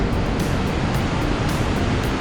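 Iguaçu Falls at its most dramatic section pours a constant, heavy broadband roar of falling water, loud and steady with no talk.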